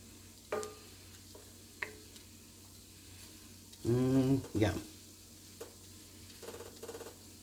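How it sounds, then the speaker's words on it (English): Rice sizzles in a pan during shrimp risotto cooking, a soft steady frying hiss broken by scattered clinks and a louder scraping stir partway through. "I'm gonna let this fry off a little bit"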